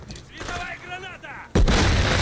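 A sudden, loud grenade blast in Call of Duty: Modern Warfare III cuts in sharply after a voice speaks and booms on without pause to the end.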